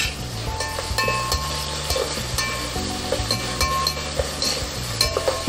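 Onions stir-fried in a pan for country-chicken biryani, with a steady sizzle and repeated scraping and clinking of a spoon against the pan, close and continuous without speech.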